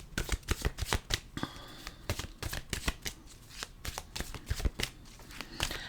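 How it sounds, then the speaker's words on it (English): Tarot cards being shuffled by hand, a steady run of quick riffling and slapping bursts close to the microphone, with no voices. "Okay, we'll turn to the cards."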